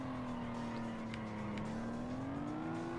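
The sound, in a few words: car engine in a racing video game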